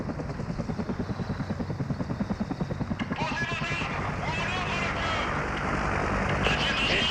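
A helicopter in Call of Duty Modern Warfare, played on realism difficulty, gives a loud, rhythmic rotor thumping for the first few seconds, then a steady, dense roar with mixed battle noise. Voices may sound faintly underneath.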